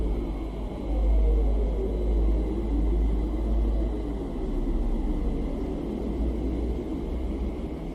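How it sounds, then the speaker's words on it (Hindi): Earth's hum presented as a recording of the planet's sound, a deep steady rumble with a slowly wavering low drone and a noisy hiss over it, continuous and fairly loud with no speech. "हम पृथ्वी की आवाज पर अगर ध्यान दें तो ये सुनने में एक हम की तरह लगती है"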